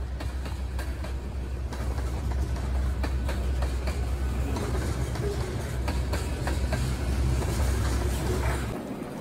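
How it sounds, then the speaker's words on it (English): A train rolls past on active railroad tracks at a live steam railway, with a steady rumbling roar and repeated clickety-clack wheel beats at fairly even intervals, moderately loud throughout and stopping abruptly at the end. "That's one nice thing about being next to active railroad tracks."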